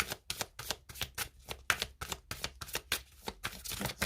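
Oracle cards are shuffled by hand in a rapid run of crisp riffling bursts, about a dozen close, papery slaps in steady rhythm with no talking.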